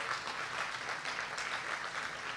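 A final round of applause from an evening conservation-talk audience, even, continuous clapping at moderate distance with no voices on top.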